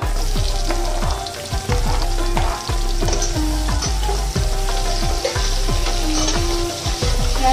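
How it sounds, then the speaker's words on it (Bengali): Chopped onions fry in hot mustard oil in a wok, a loud continuous sizzle with rapid, rhythmic spatula strokes scraping the metal throughout, close and without any talk. "কড়াইতে আমি দিয়ে দিয়েছি সর্ষের তেল। এই রান্নাটা আমি সর্ষের তেলেই করছি। আর এর মধ্যে আমি এবার দিয়ে দিচ্ছি কুচানো পেঁয়াজ।"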